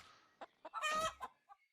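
Chickens clucking in the video game RuneScape, a run of short separate clucks with one louder drawn-out squawk in the middle, close and clear over a quiet background.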